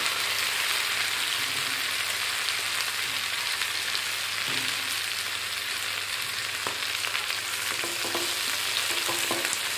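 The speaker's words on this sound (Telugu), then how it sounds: "ఇవి కూడా కొద్దిగా వేపుకొని" Coconut pieces frying in a pan for Andhra-style coconut mango pickle give a steady, close sizzle that runs the whole time, with occasional stirring clicks and scrapes and no talking.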